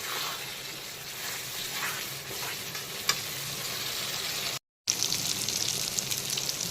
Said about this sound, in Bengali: এখন আবারও বেশ কিছুক্ষণ সময় নিয়ে পুরো মশলাটাকে কষিয়ে পুরো ভাজা ভাজা করে নেব।